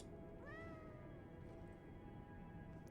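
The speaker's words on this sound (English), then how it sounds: "Come here, kitty." A cat in the video game Lies of P lets out a single drawn-out meow, quiet and clear over a soft steady background hum.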